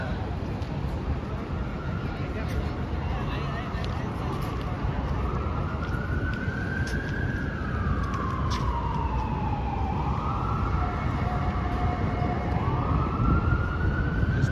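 A New York City fire engine siren from Ladder Company 10 and Engine Company 10 near the World Trade Center site wails and sweeps steadily up and down, loud and sustained over street noise, with faint voices in the background.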